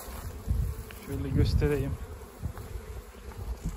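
Crossbred honeybees buzz in a thick, steady drone around a beehive during a young-bee orientation flight, close and constant, while someone speaks Turkish over them.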